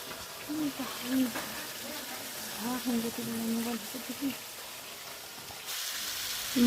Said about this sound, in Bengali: এইটুকুনো মাছ ভাজা চলছে